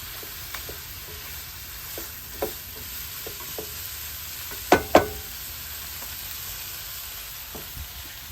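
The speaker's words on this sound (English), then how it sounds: "I'm going to keep it covered for 2 to 3 minutes and mix it in between" Duck curry with coconut milk gets stirred in a covered pot, a low steady simmer broken by scattered soft scrapes and two sharper clinks near the middle, with no voices.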